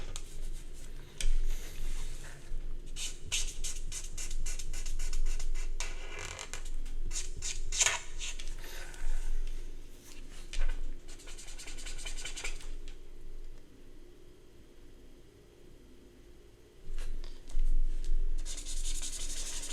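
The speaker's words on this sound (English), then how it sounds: "the markers make that noise" Marker tips squeak and rub across paper in short bursts of strokes, close and fairly quiet, with pauses between.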